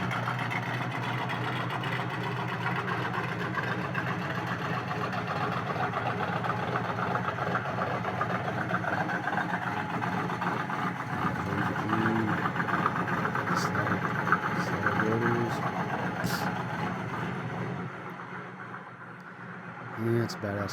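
A car engine idles with a deep, steady rumble for about twenty seconds, while someone speaks briefly over it and the sound drops away near the end.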